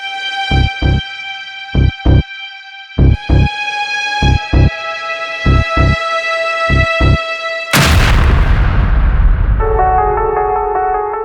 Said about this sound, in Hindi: धमाका लैपटॉप में हुआ।